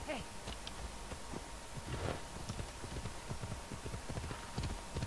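Horse hooves clip-clopping in Assassin's Creed Odyssey, a steady rhythmic trot of close, distinct hoofbeats over a low ambient game bed.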